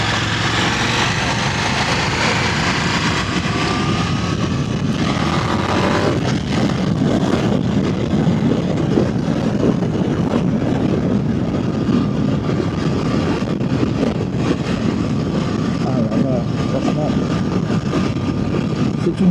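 A KTM 1390 R Duke Evo 2025 motorcycle engine drones steadily under a rider's voice, a continuous, even mechanical roar at moderate distance that rises slightly early on and then holds.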